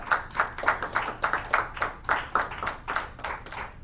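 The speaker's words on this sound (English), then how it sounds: "And a round of applause out there for these people." A small audience claps for guests on a local talk show, about a dozen distinct, fairly even handclaps in a steady rhythm, moderately quiet and heard alone without talk.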